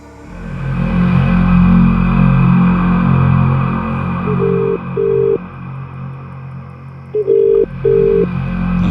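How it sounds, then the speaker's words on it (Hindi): Repeated ringback tones sound over a low steady engine hum, as if from inside a moving car, with short paired beeps and nobody picking up. "हिना अभी भी फोन नहीं उठा रही है यार।"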